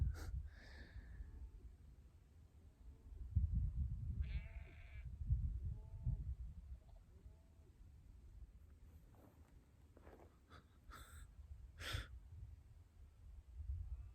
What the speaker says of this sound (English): There's a lot of sheep about.